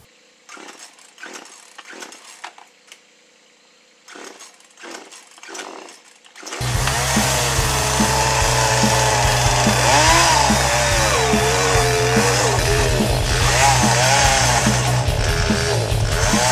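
A few sputtering pull-start attempts on a chainsaw that wouldn't stay running, then it roars to life and runs loudly and continuously, its engine revving up and down.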